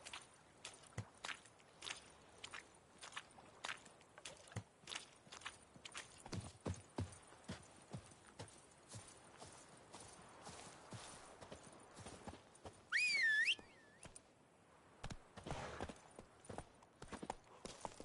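Hooves of Roach, the horse in The Witcher 3, clip-clop in a steady walking-to-trotting rhythm at close range, with a short whistle-like tone partway through and no talk.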